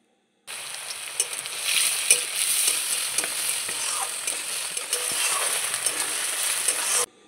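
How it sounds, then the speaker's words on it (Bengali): Chopped onions fry in hot mustard oil with whole spices, giving a loud, continuous hissing sizzle up close, with occasional crackles and spatters, no voices. "তার মধ্যে দিয়ে দেব আমি কেটে রাখা পেঁয়াজ কুচনোগুলো"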